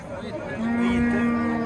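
A young bull lets out a long, low moo close by at a livestock market in Bukhara, steady and droning, with faint crowd chatter in the background.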